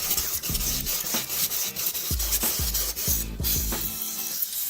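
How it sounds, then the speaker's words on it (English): A block of cut foam board rubs against a foam board panel in quick, scratchy strokes, a dry rasping sanding sound repeated in short bursts close up. "Take a piece of block of what you've cut, use it as sandpaper."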